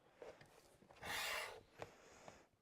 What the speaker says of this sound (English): just going to trim this one real quick